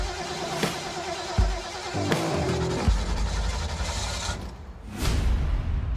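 An old truck's engine runs with a steady low rumble, with a few brief whooshing swells.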